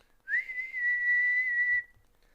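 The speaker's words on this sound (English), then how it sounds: "taking a silver whistle out of his pocket and blowing it loudly" A silver whistle blown loudly: a single clear, sustained shrill tone lasting about a second and a half, with a quick rising start and clean stop, heard alone.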